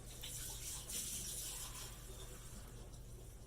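Citrus vinegar poured out into a sink, a steady rushing, splashing stream running unbroken and fairly close throughout.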